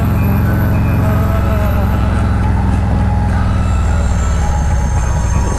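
A train passes close by a moving vehicle on the road, a steady, heavy low rumble with faint wheel noise that continues throughout without a break.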